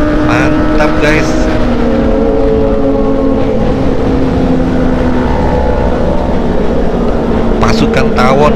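Loud, continuous engine roar of many high-revving four-cylinder Kawasaki ZX-25RR sport motorcycles riding through Jakarta, sustained throughout with shifting pitch, close and dominating the scene.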